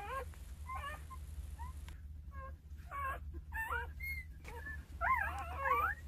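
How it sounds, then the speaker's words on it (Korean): A two-day-old Jindo puppy from a litter of nine, nestled with its mother, whimpers in repeated thin, high, wavering squeaks, close and clear over a low room hum. "새끼 강아지 한 마리가 낑낑대네요."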